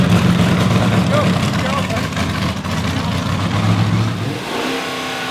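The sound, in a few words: Dodge Challenger drag car accelerating down the track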